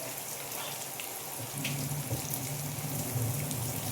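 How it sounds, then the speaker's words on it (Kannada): Water draining off soaked beaten rice (poha) makes a soft, continuous trickle and splash at close range, quiet and steady with no talking. "ನಾನು ನೀರೆಲ್ಲ ತೆಗಿತಾ ಇದ್ದೀನಿ."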